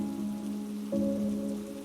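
Heavy rain falls in a steady, even wash in an animated horror story scene, with a low continuous hum running under it and no voices.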